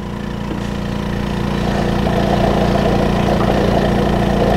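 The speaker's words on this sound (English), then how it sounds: "as you hear there, the vacuum pump clicks on. It goes ahead and brings it, it's go ahead and priming" The vacuum pump of a BioTek ELx405 Select CW microplate washer runs as a loud, steady mechanical drone with a rhythmic low pulsing that builds slightly as it primes.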